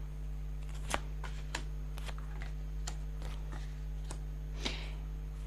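Tarot cards being shuffled and handled, a string of soft, brief riffling and slapping sounds scattered at irregular intervals over a low steady hum, close and quiet.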